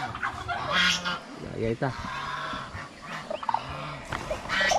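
Turkeys and other fowl call on a poultry farm in nearby gobbling and honking bursts, while a person speaks briefly among the birds.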